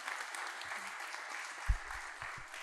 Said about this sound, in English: Nice round of applause for Vanessa again